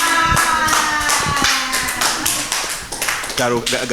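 Applause and clapping from a studio audience at a televised dating game show, a burst of hands clapping mixed with cheering and music, with voices talking over it throughout.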